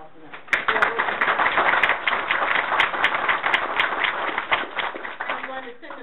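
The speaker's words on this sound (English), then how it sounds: "I want to ask for a round of applause for that." Audience applause at a school board of education meeting in Southfield, a sustained burst of dense clapping from a crowd that swells quickly and holds steady before tapering slightly, heard alone without talk.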